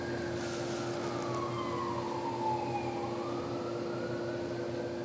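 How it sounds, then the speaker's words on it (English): A siren wails faintly in the distance during yard work in St. Augustine, its pitch sliding slowly down and back up beneath a steady background hum. "Hear the siren?"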